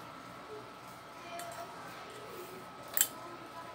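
Scissors cutting plush ribbon for a luxury bow, a single faint snip near the end of an otherwise quiet, near-silent stretch.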